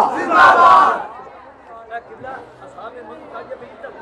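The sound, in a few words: crowd chanting religious slogans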